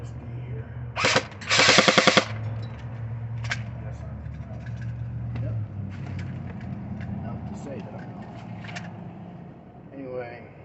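Short bursts of fire from an Umarex MP5SD airsoft gun shooting 0.25 g BBs: two rapid rattling strings close together near the start, then quieter single pops, with background noise running throughout.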